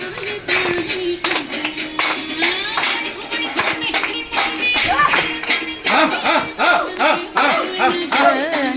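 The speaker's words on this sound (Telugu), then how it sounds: "చప్పట్లు చప్పట్లు చప్పట్లు ఎంకరేజ్" A get-together audience claps rhythmically, close and loud, the steady hand claps repeating throughout while voices chant and sing along over them.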